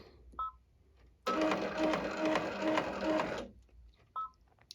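A sewing machine runs a short straight line of stitching across the bottom of a fabric bunny softie, a loud, even, rapid mechanical whirr lasting about two seconds, close by, with faint handling noises before and after and no talking.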